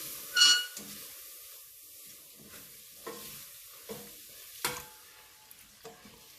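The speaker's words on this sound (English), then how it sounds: "you'll notice I'm stirring all the time. I'm not letting it catch, but I'm going to add the pineapple juice" Onions sizzle gently in a pan for a pineapple chickpea curry, with pineapple juice being added, as a spoon scrapes and stirs in soft, spaced strokes near at hand.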